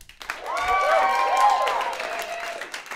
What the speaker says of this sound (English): Make a round of applause for yourself.